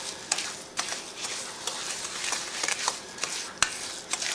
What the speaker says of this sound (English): And then you're just gonna stir this into your butter and sugar mixture